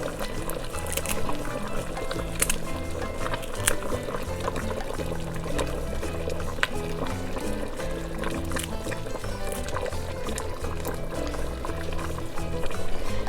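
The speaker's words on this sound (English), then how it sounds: "So now that my chicken is boiling and I've turned it to low" Chicken pieces boiling in a pot of Latin chicken stew, a steady bubbling and liquid churn that runs continuously at even loudness, with faint clinks and a muted voice in the background.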